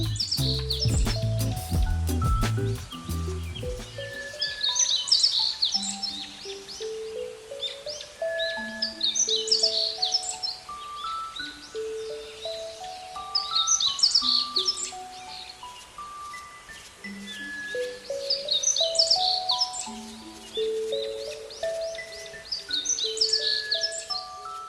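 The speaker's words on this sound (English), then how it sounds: "It's like experiencing a vibrant bird exhibition in the forest." Birds chirp and tweet in a forest in AI-generated audio, with bright overlapping calls and trills continuing steadily at moderate loudness over a faint rustling background.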